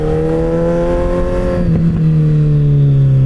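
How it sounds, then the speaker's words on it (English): A Suzuki Hayabusa motorcycle with a double exhaust revs up loud and close. Its deep, harmonic engine note climbs and then settles, and no one speaks over it. "That double exhaust note is weird."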